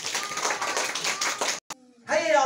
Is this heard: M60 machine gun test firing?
no